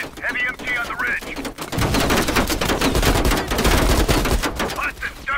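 Heavy machine gun fire in the Call of Duty Black Ops Cold War campaign, a loud sustained rattling burst of rapid shots lasting several seconds, with voices shouting before and after it.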